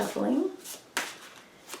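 A deck of tarot cards is shuffled by hand in a quiet room, with a riffling burst and a few soft card slaps and taps afterward, as a person speaks briefly.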